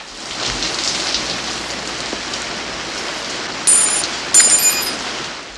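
Heavy rain pours steadily in a film scene from the 1985 movie Clue, a loud continuous hiss with a couple of brief high tones cutting in near the end.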